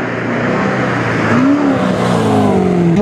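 A 1000-horsepower Corvette's engine roars loudly and steadily, its revs rising and falling slightly, close and dense throughout with no voices over it.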